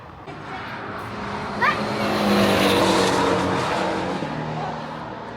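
A racing car drives on a race track, its engine droning steadily up close with a brief tire squeal partway through.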